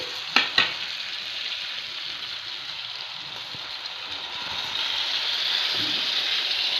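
Two sharp clanks open a steady frying sizzle of drumstick (moringa) pieces in a pan, and the hiss swells louder toward the end as water is added.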